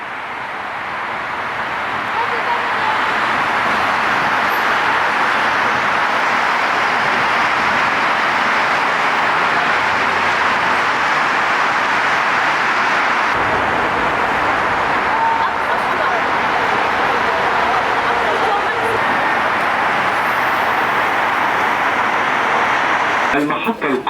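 Steady loud rumble and rushing hum inside a moving Dubai Metro train, continuous throughout with a faint automated announcement voice over it.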